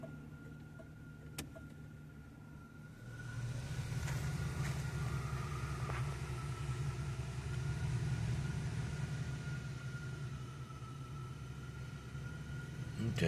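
A 1983 Buick Park Avenue with 16k miles starts from cold and settles into a steady idle, a low continuous engine hum lasting about ten seconds after a quieter opening, close and alone with no talk.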